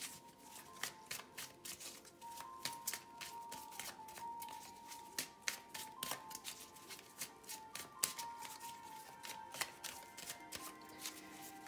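A deck of Tarot of the Angels cards is shuffled by hand, quiet and close, with repeated crisp riffling flicks and taps in an irregular rhythm over several seconds.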